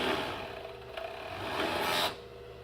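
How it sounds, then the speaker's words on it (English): A Juki MO3612 serger stitches and trims a fabric edge, giving a steady mechanical whir that swells toward the end and then cuts off abruptly. "So the serger will cut it and put a nice finish on it so it doesn't fray"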